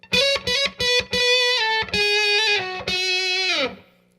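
Electric guitar through a fuzz pedal with light spring reverb plays a solo phrase of several sustained, gritty notes that end in a downward bend and a short decaying tail, close and loud.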